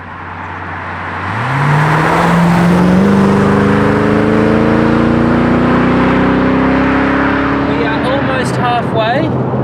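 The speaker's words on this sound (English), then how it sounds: "It's going alright, the car's cruising well." V8 car cruising on an open road, a loud, close, steady engine drone whose tones climb smoothly as it gathers speed, with road roar beneath and a brief voice near the end.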